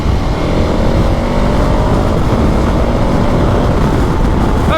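A KTM 1290 Super Adventure R motorcycle engine pulls hard under acceleration, a loud continuous engine roar with heavy wind rush throughout, no pause or break.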